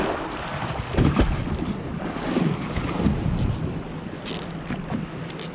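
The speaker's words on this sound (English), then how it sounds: "I'm gonna let these boat wakes come through" Boat wakes wash and slosh against the hull of a fishing boat on a lake while crappie fishing, with gusting wind buffeting the microphone; no one speaks.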